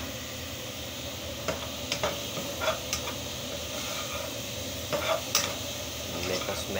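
Garlic frying in a hot pan gives a steady, close, broadband sizzle with a few soft utensil clinks and stirring scrapes over it. No one speaks.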